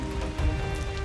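A cartoon downpour of rain makes a steady, dense hiss that rushes on without a break for about a second.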